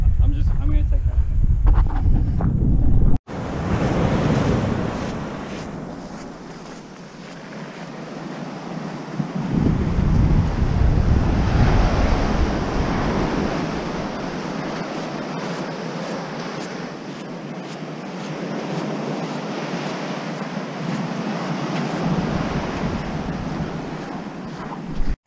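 Surf washes onto a beach on the Isle of Wight coast, a continuous rushing roar mixed with heavy wind buffeting the microphone, with a sudden cut near the start and occasional voices.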